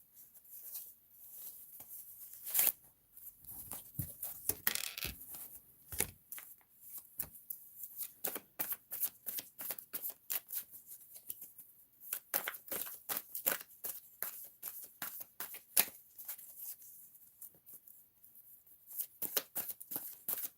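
A deck of cards being shuffled and handled during a tarot reading, with many quick riffling flicks and snaps in irregular bursts, close and fairly quiet, with brief pauses between runs.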